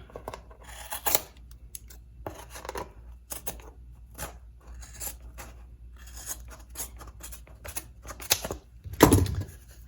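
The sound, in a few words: scissors cutting fabric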